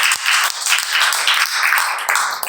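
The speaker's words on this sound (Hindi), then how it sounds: "ताली बजाए परमेश्वर की महिमा।" A church congregation claps together in praise, a continuous close burst of many hands with a few sharper individual claps standing out.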